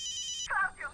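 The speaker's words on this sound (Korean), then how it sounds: "그때 걸려온 동료의 전화." A telephone rings in a zombie film as a colleague calls: a fast trilling electronic ring runs steadily, then cuts to a couple of brighter warbling tones, fairly clear and close.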